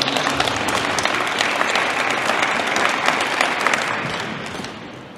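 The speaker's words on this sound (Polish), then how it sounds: "Zróbcie Państwo oklaski." Audience at the opening of an indoor county swimming pool applauds in a dense, loud, steady wave of clapping that tapers slightly at the end.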